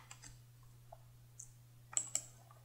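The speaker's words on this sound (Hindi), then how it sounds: "राइट क्लिक करते हैं और रन एज़ वाले ऑप्शन पर जाते हैं और यहाँ पर क्लिक करते हैं।" A few light, sharp mouse clicks spaced irregularly in a quiet room, while a Java program is run on a computer, with a steady low hum underneath.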